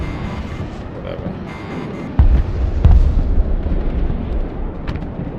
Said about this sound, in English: Backline airstrikes and artillery, but whatever.